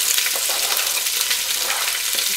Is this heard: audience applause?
no